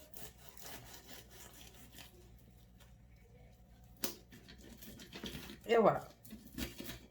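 A savoury stuffed croissant sliced with a knife, giving soft rasping sawing strokes, close and fairly quiet, with a brief spoken remark near the end.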